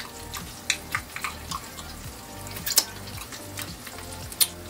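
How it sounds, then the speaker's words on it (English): Oyster mushrooms fry in a pan on a stovetop with a soft, steady sizzle and scattered pops and crackles, heard up close. "Oyster mushrooms are still frying."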